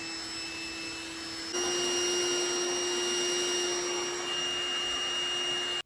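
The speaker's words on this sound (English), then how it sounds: "Here you can get a better visual of the vacuum traveling from hardwood" Trifo Ollie pet robot vacuum cleaner running steadily as it travels from hardwood onto carpet and rugs, a continuous whining motor hum with high tonal whistles that grows slightly louder partway through, then cuts off at the end.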